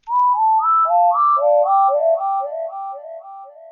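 Pure, soft-edged sine wave synth tones play a quick stepping melody of many short notes, clean and alone, gently echoing at the end.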